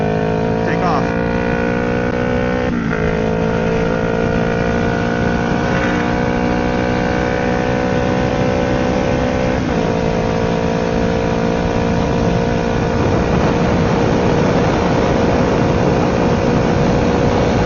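A Kawasaki Ninja motorcycle engine, one that is not performing as it should, drones loudly and steadily with brief dips as gears change, then climbs in pitch and builds stronger toward the end as it pulls away.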